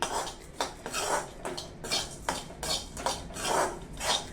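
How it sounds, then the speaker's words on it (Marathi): Desiccated coconut masala is roasted in a pan for Maharashtrian masale bhat, with a spoon or spatula scraping and clinking against the pan in a loose repeating rhythm, close and clear with no talk. "हे छान भाजून घेऊया डेसिकेटेड कोकोनट घेतलंय मी"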